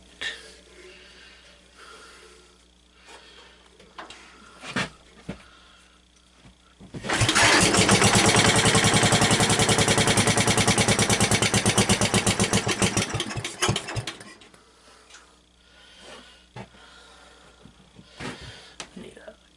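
A 1963 David Bradley 725 tractor's engine cranks and catches, running loudly with a rapid, rough chatter for about seven seconds before cutting out. Speech and quiet clunks come before and after.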